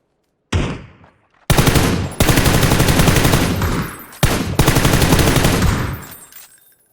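Loud, close bursts of automatic gunfire in the video game PUBG, one short burst then longer sustained rapid-fire strings separated by brief gaps, with no talking.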